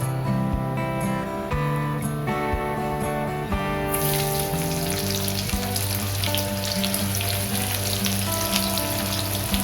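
Sliced onions hiss and crackle in hot oil with cumin seeds in a wok, a steady bright sizzle with a few clinks and knocks over a tonal background, with no voices.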